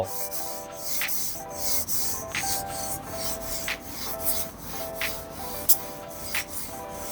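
Codeguy Psycho Pro mouse skates slide back and forth across a glass mousepad, giving a steady, close rubbing hiss with rhythmic swells and faint scratchy accents, no talking.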